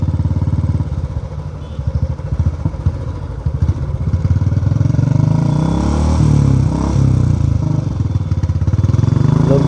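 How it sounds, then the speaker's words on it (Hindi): A Royal Enfield Classic 350 motorcycle thumps close by with a rapid uneven beat, its exhaust crackling and popping in bursts before the engine note swells into a steadier, louder drone. "अपने आप पटाखे मार रही है, मैं कुछ नहीं कर रहा हूँ।"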